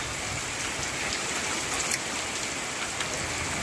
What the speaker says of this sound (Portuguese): de repente caiu um toró de água